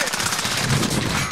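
Call of Duty Modern Warfare gunfire in a Rebirth match, a brief, loud, continuous rattle of rapid shots with no pause over about a second.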